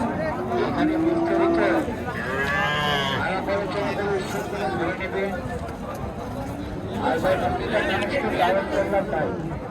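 A Haryana or Nepali Boulder breed bullock lows at a dry-season cattle market, with a few drawn-out moos up close over a steady crowd murmur, while people talk nearby.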